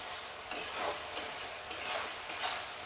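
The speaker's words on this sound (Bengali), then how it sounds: "দিয়ে নাড়িয়ে নিচ্ছি এইভাবে" Salt being stirred into potato curry in a frying pan for aloo dum, with soft scraping strokes over a steady light sizzle, recurring every half second or so, close and clear with no talking.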